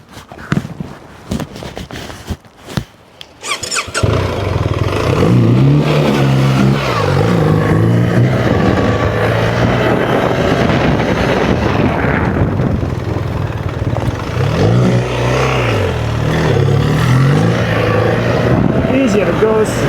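BMW R1300GS adventure motorcycle making a slow U-turn, its engine droning steadily and swelling with throttle after a quieter start with some talk.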